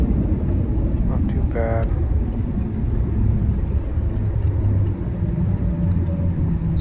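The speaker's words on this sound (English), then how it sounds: "We're close to the runway. Touchdown. It's a fairly soft landing." Airliner making a soft touchdown and rolling down the runway, heard from inside the cabin as a loud, steady rumble of engine and wheels with a brief chime, while a voice speaks once over it.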